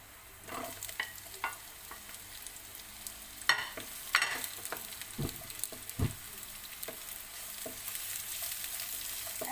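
Onion and garlic sautéing in a pan for squid adobo: a steady sizzle with repeated scraping stirs and clacks of a utensil, moderately close, no talking.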